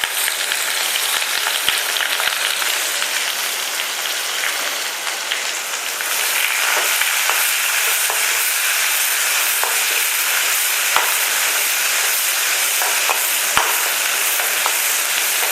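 Onion and curry leaves frying in a pan with mustard seeds and urad dal for brinjal rice, a steady broadband sizzle throughout that swells louder partway through, with occasional sharp pops and crackles.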